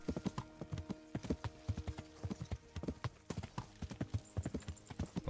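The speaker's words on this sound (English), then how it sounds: "Well, good thing now we have a horse" Horse hooves clip-clopping in the medieval video game Kingdom Come: Deliverance, with a steady rhythmic trot of close, crisp hoofbeats continuing throughout, with no other sound over them.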